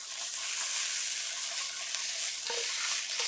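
White button mushrooms sear in a hot pan with a constant, fairly quiet sizzle and faint stirring scrapes, and nobody speaks.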